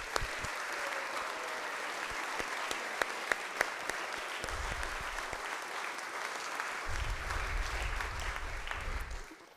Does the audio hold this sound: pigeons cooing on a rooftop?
no